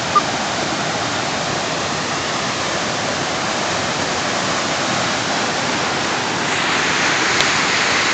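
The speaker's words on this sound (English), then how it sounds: "This is the Bagura river. It's more like a stream than a river. And that's first of the many falls." Waterfall on the Bagura river near Ajanta and Ellora, a stream-like river dropping over the first of many falls, giving a steady, loud, broadband rush of falling water that stays constant throughout with no voices.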